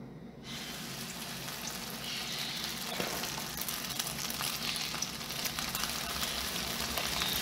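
Nopal patties frying in a pan of plenty of oil, with a steady, close broadband sizzle running throughout at even loudness and no talking.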